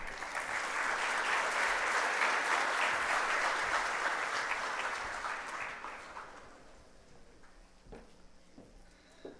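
Audience applause at a poster launch event in Loja welcomes a speaker, loud and dense for about six seconds before thinning and fading to scattered claps.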